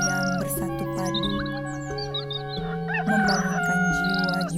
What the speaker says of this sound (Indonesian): Saut-sautan ayam bersatu padu